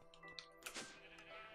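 A sheep in a modded Minecraft-style block-building game gives a single clear, wavering bleat, fairly quiet and close, with nothing else around it.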